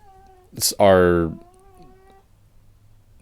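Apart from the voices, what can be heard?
pet cat making a weird sound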